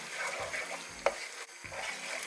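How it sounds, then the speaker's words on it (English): A spatula scrapes and turns Thai-style fried rice in a pan, with soft rhythmic scraping strokes, a sharp metallic knock midway, and a faint low sizzle underneath. "Go ahead and stir the rice very well"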